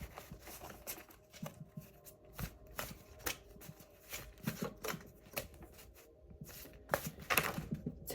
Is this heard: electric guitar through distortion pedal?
no